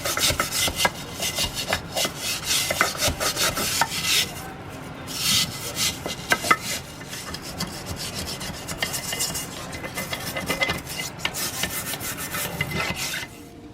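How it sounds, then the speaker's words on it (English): Brush scrubbing with paint thinner inside the oil pan of a 1942 Toro Parkway sickle bar mower, a close, repeated rasping rub in uneven strokes with brief pauses and no talk. "we're just going to scrub around a little bit of paint thinner inside of this oil pan"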